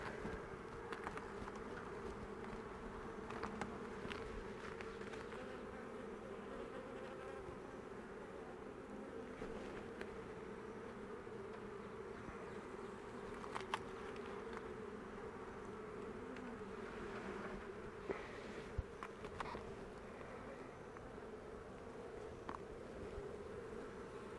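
Honey bees swarm around an open, queenless hive, filling the air with a steady, dense buzz that holds at an even level throughout with no pauses.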